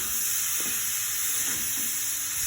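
Chicken stir-frying in a pan for a chana dal curry: a steady, dense hiss of sizzling oil that stays continuous and even, with a few faint soft stirs underneath.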